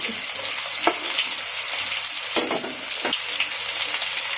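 Thinly sliced onion and green chillies frying in a pan for a prawn biryani, giving a steady close sizzle with a few sharper crackles and stirring scrapes. No voices.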